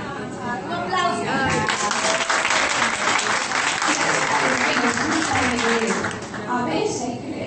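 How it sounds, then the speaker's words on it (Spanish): Sustained applause from a group, dense clapping that swells quickly and holds loud for several seconds before easing, with some voices mixed in. "Un aplauso."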